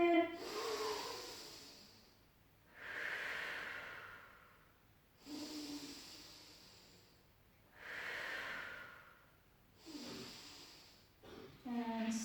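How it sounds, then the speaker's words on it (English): Slow, deep breathing during a morning stretching routine, with long drawn inhales and exhales repeating about every two to three seconds, close and soft, some with a nasal snort-like edge. "Take a breath in."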